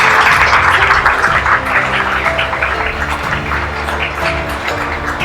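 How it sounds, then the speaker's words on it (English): An audience claps continuously at a graduate school showcase event, a dense steady patter of many hands that eases slightly in loudness after the first seconds. "I think we can still applaud her in her absence"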